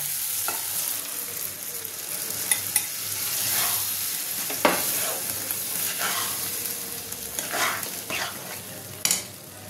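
Boiled peas tipped into hot oil and spice masala for ghugni, sizzling and frying steadily while a spoon stirs with occasional scraping knocks against the pan.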